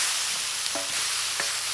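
Liver and onions sizzling on a discada, a dense steady hiss of frying with a couple of brief metallic scrapes as the food is moved around, close up.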